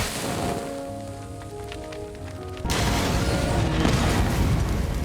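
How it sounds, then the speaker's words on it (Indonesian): A sudden loud blast at the midpoint, an explosion destroying a house in a film, gives way to a sustained roaring rumble of debris, following a quieter stretch of low tones. "Dan ledakan hebat pun terjadi menghancurkan rumah bersama para monster yang ada di dalamnya."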